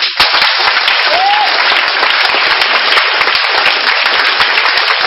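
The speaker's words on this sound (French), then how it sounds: "Est-ce qu'on peut acclamer Jésus" A church congregation acclaims Jesus with loud, sustained applause, dense continuous clapping filling the space with a brief voice over it.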